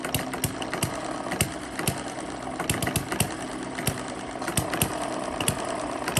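A small model hit-and-miss engine running on a mini homemade dynamometer, a fast steady mechanical clatter of regular close knocks and ticks over a continuous whirring hum.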